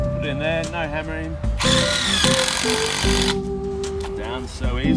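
A power drill whirs in short bursts, screwing a GroundGrabba tent peg into the ground, one long loud run in the middle, with a person talking close by between and over the drilling.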